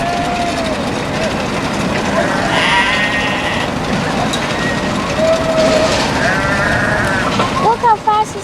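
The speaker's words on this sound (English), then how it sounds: "You can hear the goats." Goats bleating at an outdoor spot with roosters nearby, a few short cries scattered over steady background noise while people talk throughout.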